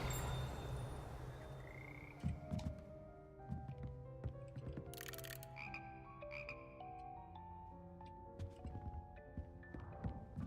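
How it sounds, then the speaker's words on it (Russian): A chorus of frogs croaking in Hogwarts Legacy, layered low croaks and chirps from several frogs, soft and overlapping, with scattered clicks and rising tones. "Хор лягушек"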